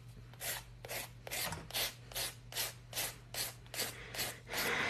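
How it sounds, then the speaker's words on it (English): A nail file rasps downward across an acrylic nail in about a dozen short, evenly spaced strokes, close-up and quiet, with no speech. "So that's why I'm filing downwards."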